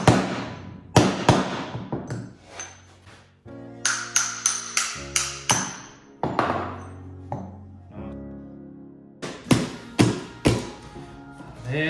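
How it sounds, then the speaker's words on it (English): Hammer tapping on a punch to drive a bearing out of a counter shaft on a Scott Bonnar Supercut mower, sharp metallic ringing strikes in irregular clusters, loud and close with pauses between bursts. "Give it a couple of taps to see how we get on."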